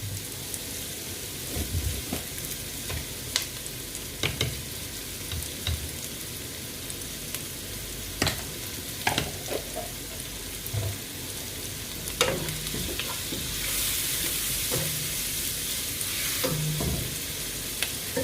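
Onions frying in coconut oil with a pinch of salt for a Kerala chicken stew, a low, even sizzle with sporadic clicks and scrapes from stirring.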